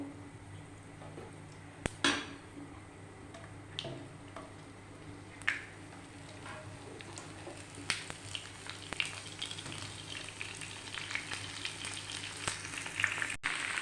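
Mango pieces slide into hot oil with blackened fried chillies for a sweet, sour and spicy pickle, producing a quiet, crackling sizzle dotted with sharp clinks of a metal spoon against the pan that grow busier.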